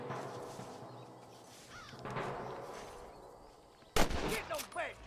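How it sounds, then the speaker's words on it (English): Gunfire in the video game Red Dead Redemption starts quietly and then bursts louder near the end with a cluster of sharp shots, plus rumbling background action. "Good shooting, boy!"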